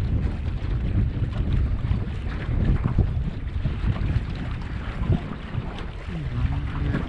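Strong wind buffeting the microphone beside the Ibicuí river at Passo do Silvestre, a continuous loud roaring gust with rough, churning low noise throughout.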